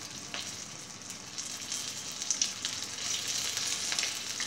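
Paper-wrapped chicken parcels fry gently in oil over low heat, giving a soft, steady sizzle with faint crackles and pops that swell slightly toward the end, with no voices.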